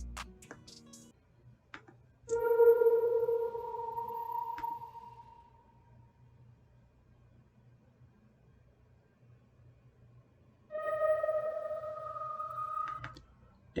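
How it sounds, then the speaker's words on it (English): Ambient synth pad built in FL Studio, two sustained tonal swells with soft harmonic layers, the first rising around the start and fading slowly, the second entering later and holding steady, with a faint low hum underneath and quiet gaps between. "it's pretty much kind of like an ambient sound, an ambient pad sound."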